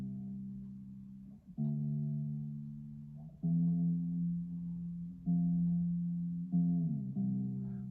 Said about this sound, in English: In this case, it's a 6-string fretless bass, Harley Benton, and it sounds like this.